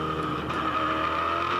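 A 2004 Supercars V8 race car screams at high revs against the rev limiter near 7,500 rpm on a Tasmania circuit straight, a loud sustained engine note close by with no talk.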